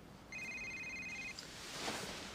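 A mobile phone rings with a bright electronic tone for about a second, faint against quiet room noise, then stops.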